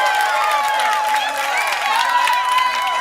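A church congregation cheers and calls out together in a sustained, lively wash of voices, loud and close, with no single speaker standing out.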